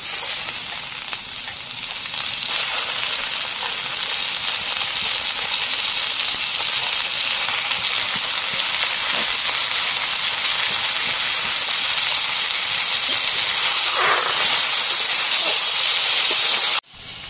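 Fresh lote fish from the Matla river hits a pan of frying onions, giving a loud, steady sizzling hiss that runs unbroken for well over fifteen seconds before cutting off abruptly. No talking is heard.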